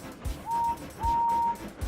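A steam engine named Henry gives two short, clear whistles, each a steady high tone, between low rumbling thumps.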